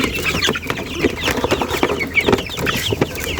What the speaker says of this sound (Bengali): এই যে আমার টাইগার মুরগি অবশ্য দেখতে পাচ্ছেন